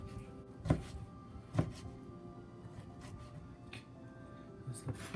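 A knife chops bacon into small pieces on a board for fried rice, giving two distinct close thunks of the blade striking the board, with quieter scraping and kitchen noise in between.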